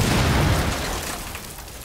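A grenade going off in a first-person shooter game, a loud booming blast already underway at the start, its heavy low rumble rolling off and fading over under two seconds, with no talk.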